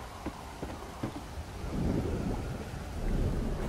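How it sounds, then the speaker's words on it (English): A heavy thunderstorm in the survival game Stranded Deep: steady rain hiss with wind, a few sharp drop taps, then deep rolling thunder swelling and rumbling loudly. "A very, very heavy storm."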